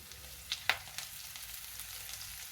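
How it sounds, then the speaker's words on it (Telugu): Washed fenugreek leaves drop into hot tempering oil over a medium flame, giving a faint, steady sizzle with a couple of sharp crackles near the start. "ఈ తాలింపులోని కడిగి పెట్టుకున్న మెంతికూర ఆకుల్ని వేసేస్తున్నాను"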